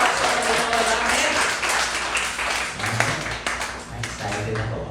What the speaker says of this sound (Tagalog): Pinakamalakas na palakpak sa Panginoon namin.